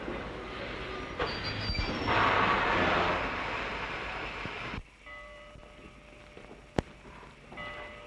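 A train rumbles and clatters along with metallic squeals, then the noise drops suddenly, followed by a single sharp clank.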